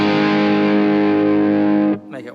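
Sustained guitar chord through a cathedral-style reverb effect with its tone control set to the middle, ringing loud and steady for about two seconds before cutting off abruptly, followed by a faint lingering tail.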